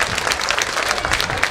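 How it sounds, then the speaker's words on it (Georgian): A crowd applauds at a 2017 school-year opening ceremony, giving dense, steady, close clapping throughout the short moment. "აპლოდისმენტები."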